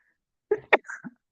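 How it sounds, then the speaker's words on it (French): A single sharp sneeze bursts out after a moment of quiet, a quick intake then an explosive release with a short trailing breath. "Je vais éternuer."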